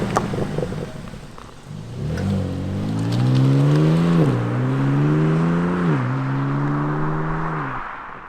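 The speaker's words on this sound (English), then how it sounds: "as we accelerate, we can hear those snappy shifts, and that exhaust note really comes to life" A BMW M2 (G87) engine and exhaust rise in pitch under acceleration, with quick gear shifts breaking the climb twice before it settles, loud and close.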